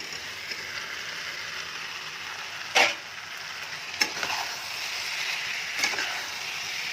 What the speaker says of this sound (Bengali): এবার ভাজা এঁচোরগুলোর মধ্যে দিয়ে একসাথে কষাবো